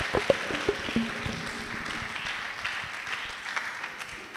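A church congregation applauds with scattered claps, a few sharp near claps at the start giving way to a steady, moderately loud wash of clapping.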